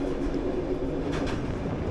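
Train running on a former Soviet electrified railway line, heard from inside the carriage as a steady, moderate low rumble of wheels with faint rhythmic clatter.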